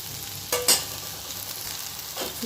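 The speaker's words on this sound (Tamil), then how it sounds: "இப்போ நல்லா வதங்கட்டும்" Onions and meat masala fry in a pan for semiya kichadi, a gentle sizzle under a couple of quick metallic spoon scrapes and stirs, with no one speaking.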